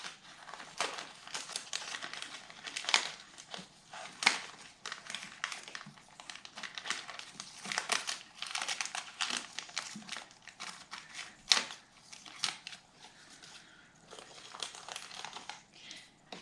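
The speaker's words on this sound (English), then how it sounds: "I am going to cut a little bit more of this plastic so we don't see it." Scissors snip through thin plastic lining a holiday succulent basket, a close, steady run of crinkly cuts and crackling rustles with no talking.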